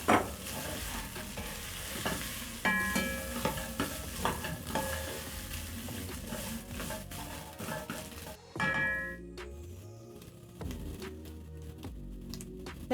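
Meat and browned onions stirred in a pot for beef pilau, with scraping spoon strokes and soft sizzling, some louder clatters of the utensil against the pot, close up.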